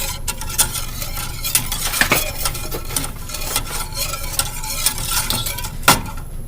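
Vanilla cream pie filling stirred in a pot as it heats toward a boil, a spoon scraping and clinking against the metal sides in repeated strokes over a faint simmer, with no voices.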